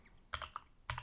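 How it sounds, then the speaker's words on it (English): A few quick keystrokes clatter on a computer keyboard, faint and close, in one short burst. "if we type over here"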